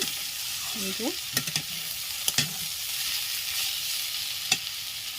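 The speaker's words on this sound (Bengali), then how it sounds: "মাছের ডিম দিয়ে সজনে শাক ভাজা সজনে শাক আলু আর মাছের ডিম শুকনো লঙ্কা প্যাঁচফোড়ন দিয়ে ভাজা করছি" Drumstick leaves, potato and fish roe frying with dry chilli and panch phoron, a steady close sizzle with a few sharp spoon clinks and scrapes scattered through it, and nobody talking.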